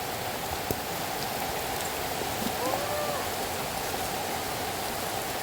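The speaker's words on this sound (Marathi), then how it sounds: "हा पाऊस काय थांबा थांबत नाही" Steady rain pours down outdoors at a children's play zone, a dense, even hiss of drops that never lets up, close and constant for the whole stretch.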